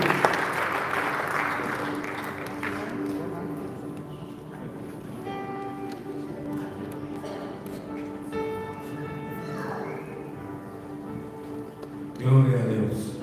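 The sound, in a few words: congregation applause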